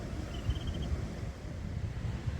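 Cold morning wind blows steadily outdoors, a low continuous rumble and buffeting close to the microphone, with no talking.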